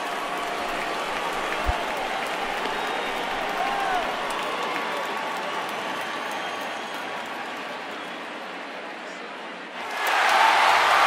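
A home stadium crowd in the baseball game MLB The Show 19 applauds steadily, a broad even wash of clapping and cheering, with a brief thump early on and louder swelling noise near the end.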